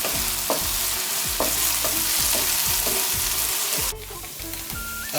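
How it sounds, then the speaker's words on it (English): Onions frying and browning in a pan for lamb karahi, a steady loud sizzle with repeated scraping stirs of a utensil against the pan; no talking. "all we're waiting to do is making sure that the onions go brown"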